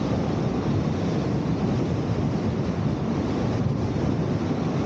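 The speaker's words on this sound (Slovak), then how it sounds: "Dosť silný vietor." Strong outdoor wind buffets a new microphone, producing a loud, steady, rumbling roar that fills the whole stretch without a break.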